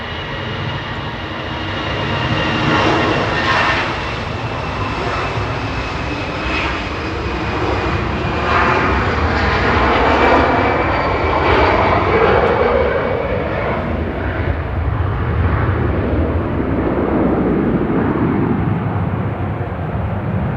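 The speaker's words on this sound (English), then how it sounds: "EasyJet's GEZUZ departing to Nice now, flight 2103. It's A320 Classic." An EasyJet Airbus A320 Classic departs Manchester Airport, its jet engines producing a loud, sustained roar that swells and slowly shifts in pitch as the aircraft passes and climbs away.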